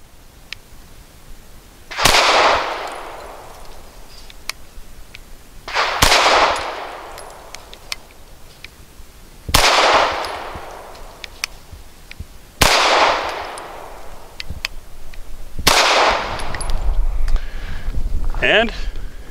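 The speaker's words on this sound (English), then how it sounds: "So here we go, five rounds through the new K100 with the Meprolite." A Grand Power K100 pistol fitted with Meprolite night sights fires five loud, sharp shots, spaced a few seconds apart, each cracking close and decaying quickly, with low talk between them.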